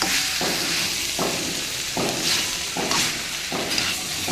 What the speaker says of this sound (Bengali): এবার এটাতে একটু জল দিয়ে দেবো।